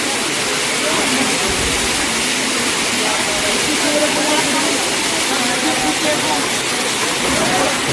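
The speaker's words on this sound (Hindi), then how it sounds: "ये देखो वाटरफॉल," Dhaskund waterfall in Mahasamund, Chhattisgarh, roars with a steady, loud broadband rush of falling water that fills the whole clip without letup, with faint crowd voices mixed in beneath.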